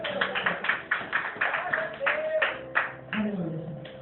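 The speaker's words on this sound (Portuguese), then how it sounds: "As palmas sobre a oração." Church congregation clapping after a prayer, rhythmic bursts of hand claps at a fairly even pace, somewhat muffled and irregular, with voices and tones mixed underneath.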